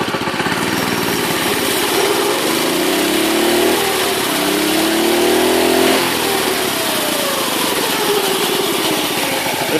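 A small engine on a motorized Schwinn Stingray chopper bicycle with a twist throttle buzzes loudly up close, with the revs swelling and falling in the middle of the run before it settles back to a steady rattle.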